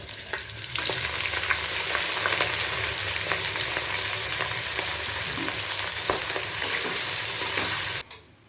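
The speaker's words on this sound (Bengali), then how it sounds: "এত বড় কড়াইতে আমার ফ্রাইড রাইস নাড়তে নাড়তে আমার নাজেহাল অবস্থা হয়ে গেছে" Fried rice is stirred in a large wok, with a constant loud sizzle, spatula scrapes and clinks throughout, cutting off abruptly near the end.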